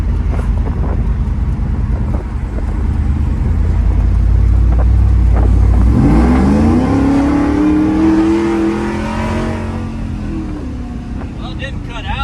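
A 1993 truck swapped to an 800+ hp supercharged LT4 V8 with a 10-speed automatic roars under full throttle, loud low engine rumble rising steeply in pitch through the gears from inside the cab, with people talking.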